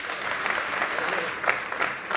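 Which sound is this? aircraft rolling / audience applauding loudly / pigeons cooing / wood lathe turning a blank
audience applauding loudly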